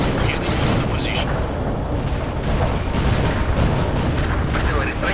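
Artillery strike in the real-time strategy game World in Conflict, a dense, continuous roll of heavy booms and rumbling blasts that fills the whole stretch loudly, with voices talking over it.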